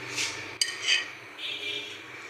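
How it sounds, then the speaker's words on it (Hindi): Vegetable chicken pulao being served from a pot onto a dish, with soft scraping and a sharp metallic clink of a serving spoon against cookware, close and moderately quiet. "इसको हम आपके सामने डिश आउट करते हैं"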